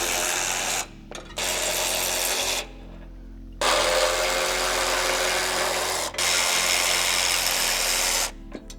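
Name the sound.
power tool removing bolts from a 4Runner crash bar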